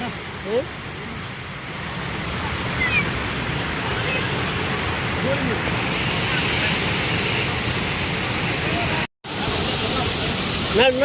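Loud, steady roar of rushing water from a large waterfall, continuous throughout with a brief dropout near the end.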